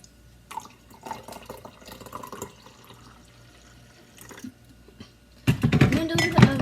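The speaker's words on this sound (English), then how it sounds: "Pour my coffee." Coffee is poured into a cup after quiet kitchen clatter and faint drips, rising into a loud, close liquid stream at the end.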